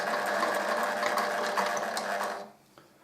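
A sewing machine runs in a fast, steady mechanical whir while stitching, then stops abruptly near the end, leaving quiet.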